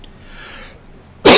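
After a near-silent pause, a single loud, harsh cough bursts out abruptly at the very end, the start of a coughing attack during a podcast recording.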